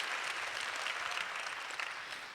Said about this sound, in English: let's give her a round of applause that is deserving of her presence